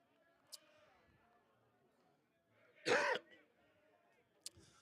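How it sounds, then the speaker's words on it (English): A commentator in a football commentary box gives one short, loud, rough cough in the middle of a quiet stretch, with faint background noise and brief clicks before and after it. "That's a commentary cough if you're joining me now"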